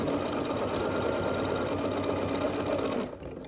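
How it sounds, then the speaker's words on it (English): A sewing machine runs steadily and close, stitching a quarter-inch seam along the edge of a scrappy quilt block with a fast, even mechanical chatter that stops abruptly near the end. "we're just going to sew along this edge using 1/4 inch seam"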